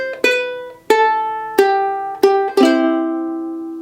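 Five plucked ukulele notes ring out clearly in a slow, spaced riff, the final note sustaining and fading.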